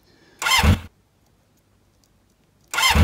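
A starter motor cranking an engine through a bridged starter relay, two short loud whirring bursts of about half a second each separated by a long silence, close up.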